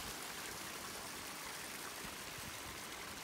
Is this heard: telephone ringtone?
no